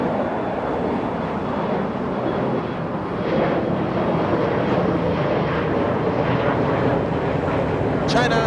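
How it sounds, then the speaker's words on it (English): A China Southern Cargo Boeing 777 freighter on approach to runway 25 left at LAX roars as a loud, steady engine rumble across the whole stretch, with wind buffeting the microphone outdoors. "China Southern Cargo 777 freighter becoming visible, peeking through the clouds, piercing the clouds on the 25 left approach"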